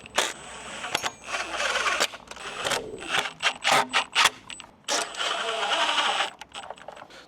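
An electrician drives screws through an enclosure into a wall, giving repeated whirring bursts from a driver, several short runs separated by brief pauses, close and fairly loud.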